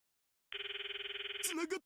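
A phone call rings in the Steins;Gate video game: a steady electronic ring pulses for about a second, then breaks into a few short chirping tones before cutting off. No voices are heard.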